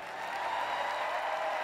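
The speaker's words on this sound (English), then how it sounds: "Big cheer for the Chair of Disability Sport from Northern Ireland." A crowd at the 2012 London Paralympic Games table tennis medal ceremony cheering and applauding, a steady wash of clapping and voices from a large audience.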